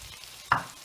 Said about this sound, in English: I am now going to put in the spinach